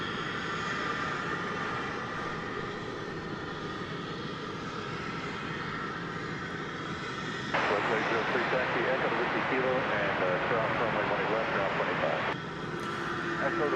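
Boeing 787-8 Dreamliner taxiing toward the terminal at DFW Airport, a steady distant whine of jet engines with a brighter, louder stretch in the middle, heard under ongoing talk.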